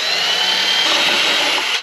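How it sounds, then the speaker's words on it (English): A power drill with a 5/64 inch bit bores a pilot hole during a 2004 Pontiac GTO line lock install, one steady, loud high-pitched whine lasting nearly two seconds and then cutting off abruptly. "got a 5/64 drill bit"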